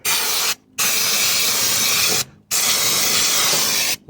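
Brake cleaner sprayed onto an oily engine exhaust manifold of a 1969 Dodge Dart GT, three loud close hissing bursts, each over a second long, separated by short silent gaps.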